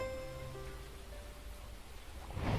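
Steady rain from a storm in the video game World's Dawn hisses continuously as a dense wash with faint soft tones over it, then swells slightly louder at the end.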